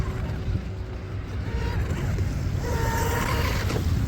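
An M500 Mini Mono RC boat runs through choppy water, its faint, thin motor whine rising and falling over a steady wash of wind and lapping waves.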